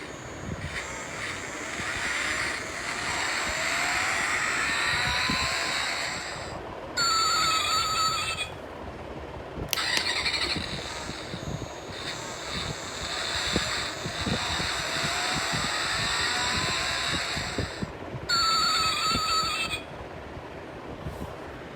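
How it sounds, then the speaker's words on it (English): A Ford Raptor die-cast pull-back toy car plays its electronic driving sound effect, a tinny engine drone with whooshing rises and brief cutoffs between segments, fairly quiet and heard alone. "It gives you real life sound of the car driving and braking."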